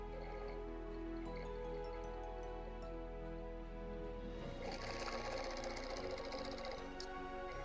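Sewing machine stitching a Christmas quilt, a steady mechanical whir running throughout at moderate level, becoming busier and more rattly in the second half, with no talking.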